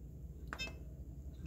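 A kitchen timer being set for 20 minutes gives a couple of short electronic beeps over a quiet low hum, with a faint extra blip at the end.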